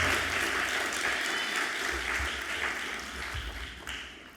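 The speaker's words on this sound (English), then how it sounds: "shall we give them a round of applause, please, for everything that they do for us" A crowd at a ceremony gives a round of applause, steady clapping from many hands that slowly thins and quiets toward the end.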